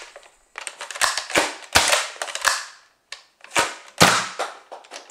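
A Nerf Zombie Strike Flipfury toy blaster fires and is cocked repeatedly. Loud, sharp plastic snaps and clacks come in quick clusters close to the mic, separated by short silent gaps.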